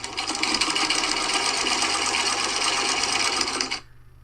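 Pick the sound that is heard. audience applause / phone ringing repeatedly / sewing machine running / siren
sewing machine running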